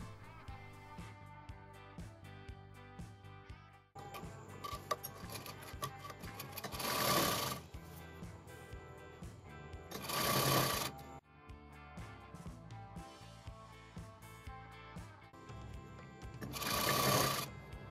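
A sewing machine stitches saree fabric for a lehenga, running in steady rattling bursts that pause and restart, with brighter louder stretches of fast stitching; no voices.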